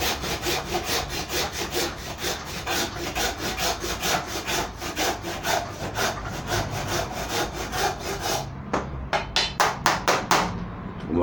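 A hand saw cuts a stub off a fig tree cutting in a fast, steady back-and-forth rhythm of close, rasping strokes that slows into a few separate, sharper strokes near the end.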